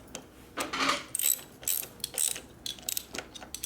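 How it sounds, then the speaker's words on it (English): A ratchet wrench works on a bolt of a Harley-Davidson Sportster, giving short bursts of quick metallic clicks in an uneven rhythm, close and fairly quiet. "it's on a ratchet"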